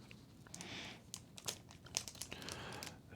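Packaging on a vintage 1991 inaugural edition Corvette trading card set crinkles and tears up close in quick, irregular rustles and snaps.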